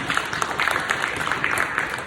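An audience at a middle school leadership ceremony claps steadily as a school leader comes up to speak, a dense, fairly loud patter of many hands close by.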